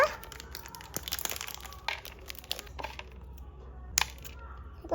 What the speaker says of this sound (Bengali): এখন বসে গেছি কিছু কাজু আর কিশমিশ নিয়ে এইগুলি একটু ছোট ছোট করে কেটে নেব